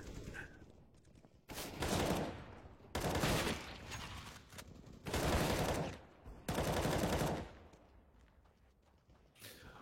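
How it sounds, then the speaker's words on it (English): Dual pistols firing in a video game, heard as four dense bursts of rapid gunfire about a second long each, loud and close, separated by short quieter gaps. "These are what we like to call the Sunny Deol guns, because it's, you know, it's just how Indian movies portray heroes with dual pistols."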